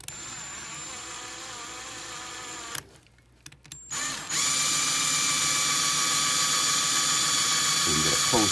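A drill screws into an antler during a repair, its high, steady motor whine running loud and continuous after a brief pause and a few stuttering starts.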